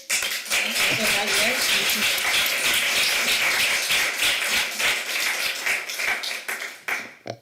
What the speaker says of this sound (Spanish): Muchas gracias, Marco. Un aplauso.